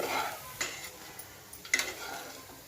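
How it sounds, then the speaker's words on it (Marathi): Thickening sesame and jaggery mixture scraped around a pan for til gul vadi, a few soft irregular strokes with one sharper scrape, close and quiet, with no speech. "ह्याचा असा पूर्ण गोळा जरा घट्ट होईपर्यंत आपण अजून थोडा वेळ हलवून घेऊया."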